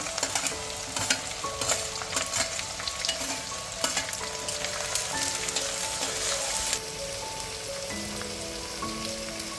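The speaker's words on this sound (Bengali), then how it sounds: "এখন আমি পেঁয়াজগুলো দিয়ে দিচ্ছি, রসুনগুলো দিয়ে দিচ্ছি, লাল লাল করে ভেজে নেব।" Onions and garlic frying in hot oil, with a dense crackling sizzle and frequent stirring scrapes heard close and loud, without any talking.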